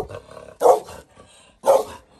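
A dog growls aggressively at visitors arriving at a poor home, giving two loud, close, rasping bursts separated by quieter rumbling, with no talk.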